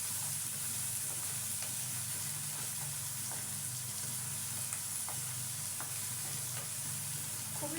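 Straw mushrooms fry in a pan with a steady close sizzle and hiss, broken now and then by light scraping clicks as they are stirred, with no talking.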